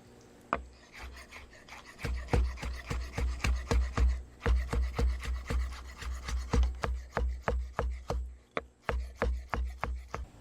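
Steady rhythmic knife chops strike a board as sea robin fish is cut up for kebabs, dozens of close, sharp thuds in quick succession with a brief lull near the middle.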